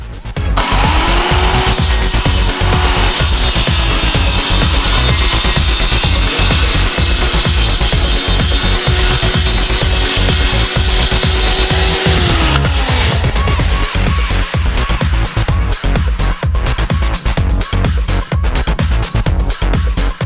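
A part for a model build is cut and trimmed with a power tool, giving a loud, continuous whine for about twelve seconds, then a run of rapid rough rasping strokes close up.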